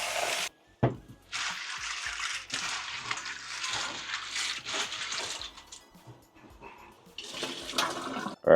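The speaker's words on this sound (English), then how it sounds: "And then we're gonna give it a second wash." Fresh kidney beans get a second wash, water running and splashing into a bowl in steady bursts with brief pauses, close and fairly loud, no talking.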